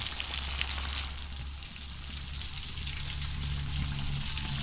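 Freshwater prawns frying in a pan aboard a river raft house, a steady close sizzle with faint crackling running evenly throughout, no voices.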